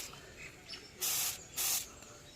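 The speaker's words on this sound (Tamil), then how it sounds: "நம்ம நல்லா இப்படி பூச்சி இலையில் படுற மாதிரி ஸ்ப்ரே பண்ணிக்கலாம்" Two short hissing bursts of a hand sprayer misting neem leaf solution onto rose plant leaves, close and loud, separated by a brief pause, over quiet background.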